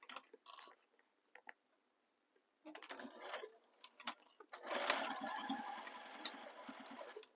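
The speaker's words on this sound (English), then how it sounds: "I'm sewing with my gusset up." Home sewing machine running a long steady burst as it stitches the gusset seam of a book-style tote bag, preceded by a few short clicks and handling noises, fairly close and with no talking.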